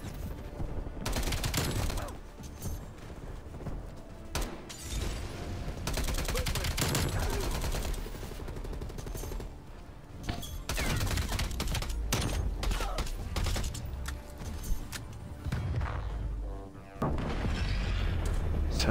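Submachine gun fire in a shooter video game, long loud stretches of rapid automatic bursts broken by brief pauses, mixed with booms and some talk.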